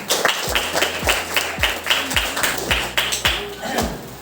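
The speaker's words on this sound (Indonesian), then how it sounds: "Oke, kalau begitu kita tepuk tangan" A class of students claps hands together in a few loud, roughly rhythmic bursts, with sharp claps repeating about every half second, mixed with chatter and voices in the room.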